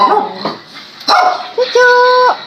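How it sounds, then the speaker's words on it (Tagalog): Several dogs bark and yip in short bursts at a relative's house in Cavite, loud and close, with whimpering tones and held whiny notes between the barks, and people talking around them. "Ito din yung mga aso ni tita guys."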